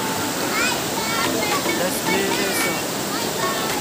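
The Suba river flows with a steady, dense rush of water up close, with voices talking faintly over it.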